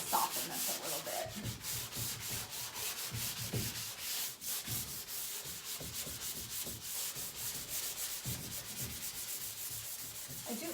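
Sanding rasps across painted furniture layered with several paint colors, close and continuous back-and-forth strokes in a steady rhythm with no voices.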